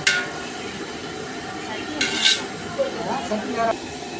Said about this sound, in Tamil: இப்போ சின்ன வெங்காயம் பொன்னிறமாக வதக்கணும்.